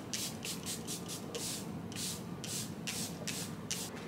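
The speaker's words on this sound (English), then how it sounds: "Last but not least, go in with the Charlotte Tilbury setting spray." A Charlotte Tilbury makeup setting spray misted onto the face in a rapid series of about eight short, close, hissing pumps, evenly spaced and heard alone.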